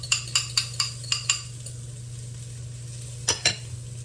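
A utensil scrapes and clinks against a small saucepan as eggs cook over a soft steady sizzle. A quick run of about six taps is followed by a pause, then two more clinks, close up and with no voices.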